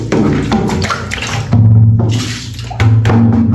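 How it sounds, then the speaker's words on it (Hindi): Water splashing and pouring into a plastic bucket as it is rinsed and washed by hand, with bursts of running water broken by short pauses, close and fairly loud. "बाल्टी को अल्हम्दुलिल्लाह हमने धो लिया है"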